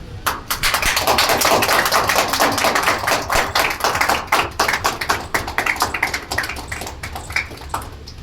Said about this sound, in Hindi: There should be big round of applause.